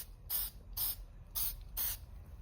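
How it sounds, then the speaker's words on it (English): Four short hissing bursts from an aerosol can spraying paint onto plastic car interior trim, in a steady rhythm, each lasting about a quarter second, close and crisp against a quiet background. "Give it a nice little spray. Get it wet."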